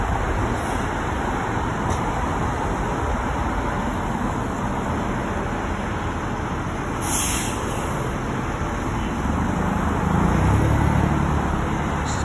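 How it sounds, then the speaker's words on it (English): A Greater Bridgeport Transit bus heading eastbound on Post Road, Route 1 in Fairfield, Connecticut, a loud continuous engine and road rumble from traffic nearby that swells toward the end. "This bus headed eastbound."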